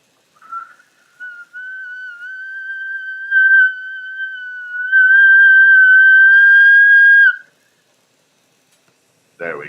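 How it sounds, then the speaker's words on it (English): A single long steady whistle, a thin high tone held for several seconds after a few short starts, fairly loud and clear against silence before stopping sharply. "Fingers crossed for a good whistle."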